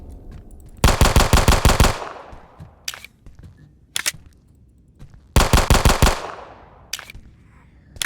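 Rapid bursts of automatic gunfire at monsters in the video game Who Knocks, two rattling volleys of about eight shots each with scattered single shots between, loud and sharp against near silence.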